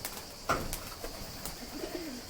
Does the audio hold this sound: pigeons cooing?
yes